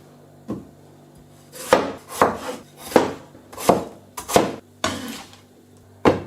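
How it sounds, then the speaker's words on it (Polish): A knife chops potatoes into small cubes on a cutting board, about eight sharp, evenly spaced strikes, close up with no voices. "Ziemniaki pokrój teraz w taką nie za dużą kostkę"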